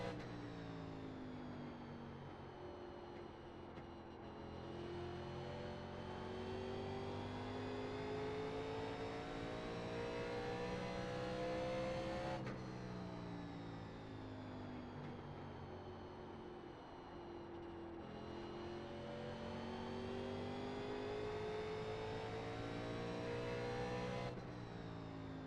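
NASCAR Legends race car engine in iRacing at Richmond, revving and droning steadily through repeated gear and throttle cycles, each rising pitch sweep ending in a sudden drop, continuous and fairly quiet with no talk.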